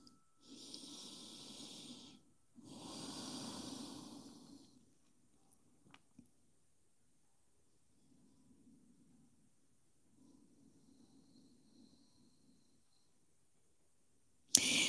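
Slow, deep nasal breathing in yoga child's pose, two long airy breaths close to the microphone followed by softer, fainter exhalations and near silence, ending in a sudden brief noise.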